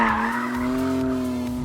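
Tires squeal loudly and steadily as a car slides through a long drift on a race track, the screech holding a sustained pitch over engine rumble, with no talking.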